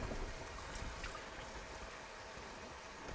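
Water runs from a kitchen tap in a steady, soft hiss that flows evenly for a few seconds with no voices.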